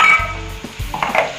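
Chickpea masala being stirred in a frying pan, a soft sizzle under a few scraping and clinking strokes of a spoon against the pan, close and fairly loud.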